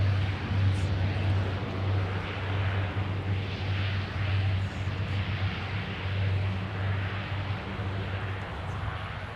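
A heavy aircraft passes left to right at Minneapolis–Saint Paul airport, a steady broadband engine roar with a low droning hum holding strong and even throughout, fairly close and continuous with no talk over it.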